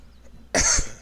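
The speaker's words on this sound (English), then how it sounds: "Sorry for the cough." A single sharp cough bursts out close to the mic during a Baldur's Gate 3 gaming session, following a moment of near silence.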